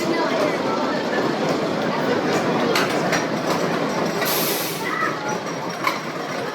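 The Timber Terror wooden roller coaster at Silverwood rumbles and clatters along the track in a continuous loud roar, with faint clicks and a brief squeal.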